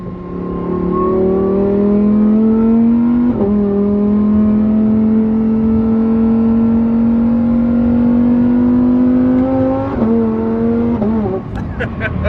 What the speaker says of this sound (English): Listen to those crackles.